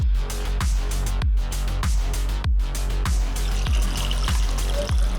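Broth pours over pork in a pot for kimchi jjigae, a loud continuous splashing stream with rhythmic glugging surges about every half second, close and alone.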